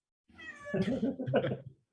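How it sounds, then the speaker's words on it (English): A house cat meows close to the microphone, giving a drawn-out, wavering cry and then a second, shorter, insistent meow. "Whose cat is meowing? That's my cat."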